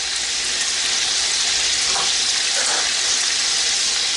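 Bay leaf and whole spices fry in hot oil, making a loud, steady hiss and crackle up close with a faint clink partway through and no voices.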